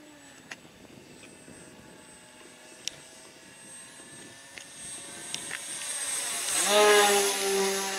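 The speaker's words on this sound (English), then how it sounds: "This is a maiden flight of his number two Mamba 10." A Mamba 10 RC model airplane makes its maiden flight, its engine whining faintly at a distance at first, then swelling louder toward the end as it passes closer, with a few sharp clicks along the way.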